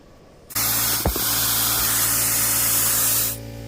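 Compressed air rushes into a car tire through a tire-maintenance tool in one loud, close, continuous hiss lasting about three seconds, with a brief clunk near its start before it cuts off.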